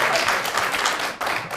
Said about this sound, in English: I love that Aaron leads the applause on that.